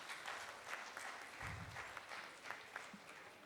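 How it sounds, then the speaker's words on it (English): Applause from an audience at a talent-acquisition panel event, quiet and somewhat distant, a steady patter of clapping hands for about three seconds. "give a round of applause for our tech recruiters"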